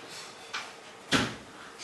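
A door closing indoors: a soft bump followed by a sharper, louder thud, both brief, against a quiet room background.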